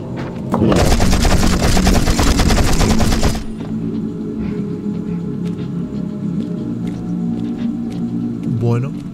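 Rapid, loud bursts of gunfire from a first-person shooter video game rattle continuously for about three seconds, then cut off, leaving a low rumbling game ambience.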